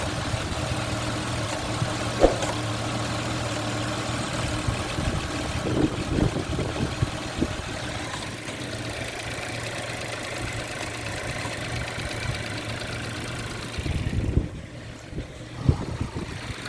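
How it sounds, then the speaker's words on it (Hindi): A car engine idles steadily after a jump start, a low continuous hum running throughout with a few louder knocks and clunks, briefly dipping near the end. "फाइनली गाड़ी मैंने स्टार्ट कर ली है।"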